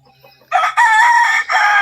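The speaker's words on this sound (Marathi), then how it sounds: "ज्या कोंबडीला आपण अंड्यावरती बसवणार आहोत" A country (desi) hen about to be set on eggs calls loudly and close by in a couple of drawn-out, strained bursts with brief gaps, with no talking.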